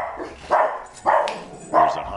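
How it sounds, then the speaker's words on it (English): Dogs bark indoors during a Batman: Arkham Knight gameplay session, three loud, separate woofs spaced about half a second to three-quarters of a second apart, close to the microphone. "Sorry about the dogs, guys."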